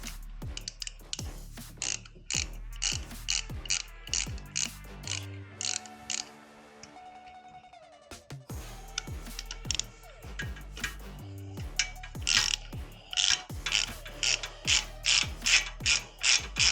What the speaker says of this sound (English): On this side, we're just going to loosen this bolt and this bolt.